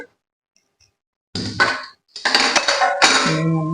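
A cooking pot of rice is taken off the stove. After a silent stretch come close clattering metal clanks and scrapes, a brief pause, then more rattling and clinking of the pot.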